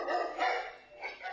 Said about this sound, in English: The dog is loudly barking at something in the hallway